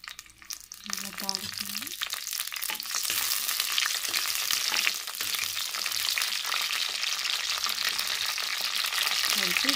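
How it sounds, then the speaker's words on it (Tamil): Loud, steady sizzling and crackling of spices dropped into hot sesame oil, starting after a brief quiet moment and continuing strongly throughout. "சூடானோடனே தாளிதங்களை போடணும். நல்லெண்ணெய் நல்லா சூடாயிடுச்சு."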